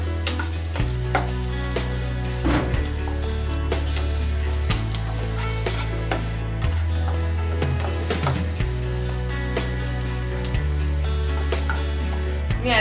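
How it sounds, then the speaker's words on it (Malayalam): Salted onions fry loudly in a pan and are stirred repeatedly, a steady close sizzle with scraping and stirring knocks throughout, no talk. "ബ്രൗൺ കളർ ആകെ വരുന്നത് വരെ നമ്മൾ ഇളക്കിക്കൊണ്ടിരിക്കണം"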